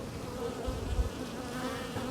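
Honeybees flying out around beehives on a mild spring day, a steady soft buzzing drone throughout with a slightly louder hum near the middle, no voices.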